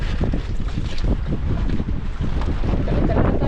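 Strong gusting wind buffets outdoors, a loud, continuous rushing roar with heavy low rumble and microphone blasts and no clear talk.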